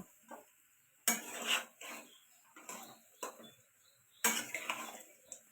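Turtle meat is stirred and seared in a pot, with irregular metallic scrapes and clinks of a utensil against the pot coming in short, close bursts separated by quiet gaps.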